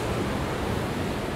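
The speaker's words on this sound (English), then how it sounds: "And the waves are crashing." Hurricane-driven surf crashes far offshore during Hurricane Enrique at Puerto Vallarta, a steady, dense roar of distant breaking waves with wind noise, constant and unbroken with no voices.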